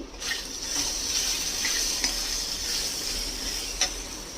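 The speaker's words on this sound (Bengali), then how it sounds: "আবার একটুখানি জল দিয়ে দিলাম" Water splashes into a hot pan of spiced eggplant with turmeric, Kashmiri chili and coriander powder, giving a steady close hiss and sizzle with a few soft stirring clicks.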